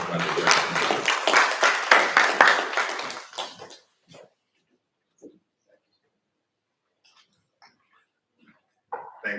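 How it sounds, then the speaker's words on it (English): A church congregation applauds the speaker with a short burst of clapping lasting a few seconds, then fades to near silence with a few scattered sounds, a voice resuming at the very end. "Let's give a round of applause to Mr. Temitope."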